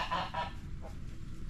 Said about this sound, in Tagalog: Gansa na naman.